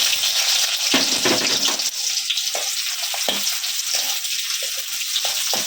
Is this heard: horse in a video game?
no